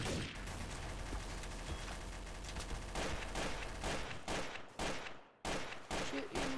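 Sustained M16 rifle gunfire in a Garry's Mod Trouble in Terrorist Town match, dense overlapping bursts and rapid shots filling the clip, loud and continuous with a short break near the end before firing resumes.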